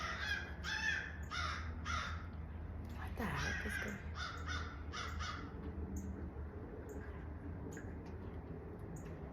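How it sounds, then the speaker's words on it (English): Loud, harsh caws from several crows ring out in quick bursts, fading to scattered calls, while a person briefly speaks underneath. "the crows are out here fighting"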